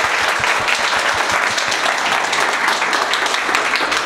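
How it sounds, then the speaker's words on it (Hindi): A crowd at a mobile hardware training course breaks into loud, sustained applause for the telecom team, many hands clapping densely and evenly throughout at close range. "मैं चाहूंगा कि एक बार इसे टेलीकॉम की पूरी टीम के लिए जोरदार ताली बजा"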